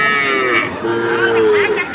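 A very young calf, about three days old, lows and bleats repeatedly at a busy cattle market, its drawn-out calls loud and close over steady crowd noise.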